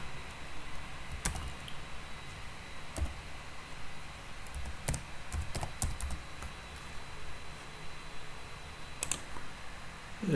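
Keys clicking on a computer keyboard while code for an Angular unit test is typed, sparse quiet taps with a few sharper clacks over a faint steady room hum.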